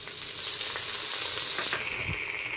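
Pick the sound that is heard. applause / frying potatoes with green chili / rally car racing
frying potatoes with green chili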